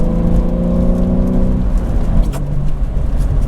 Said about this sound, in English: you guys can hear the exhaust, the valves open up